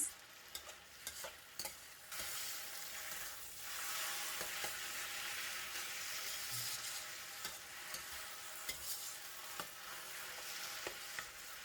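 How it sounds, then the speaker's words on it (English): Vegetarian kuey teow noodles are stir-fried with thick soy sauce in a pan, giving a low, steady frying hiss that stays fairly quiet, with occasional light clicks and scrapes of a spatula stirring through. "Stir the noodles until it is well combined with the seasoning."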